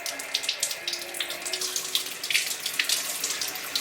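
Tap water runs steadily into a sink while a large fish head bought fresh from the market is rinsed clean, a continuous close splashing hiss with small irregular spatters.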